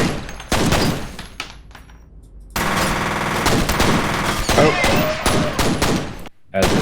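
Pistol gunfire in the first-person shooter F.E.A.R., rapid sharp shots in quick bursts broken by short pauses, loud and close, with game ambience and some speech underneath.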